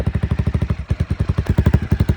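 A 2018 Honda CBR300R motorcycle engine runs close by, putting out a steady, rapid, even pulsing beat.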